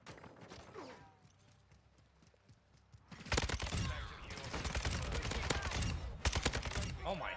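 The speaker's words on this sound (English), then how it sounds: "The hip fires look good on this weapon." Kastov 762 rifle hip-fired in a Modern Warfare match: after a quieter opening, dense rapid bursts of gunfire start near three seconds and keep going loud and continuous to the end, with no voices.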